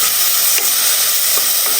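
A large finely chopped onion frying in a pan with cloves, cinnamon and cardamom, a loud dense continuous sizzle with a few faint stirring scrapes.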